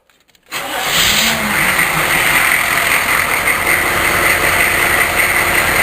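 A 6.5-litre turbo diesel with 282,000 miles cranks from cold and catches almost at once, settling into a loud, steady, rattly idle close by with no voices.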